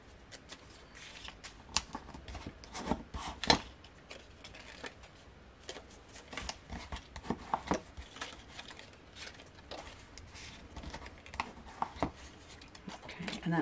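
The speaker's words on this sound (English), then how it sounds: "I'm going to come in and burnish." Paper on a wrapped box is burnished with quick, irregular rubbing and scraping strokes, soft and close, in uneven bursts throughout.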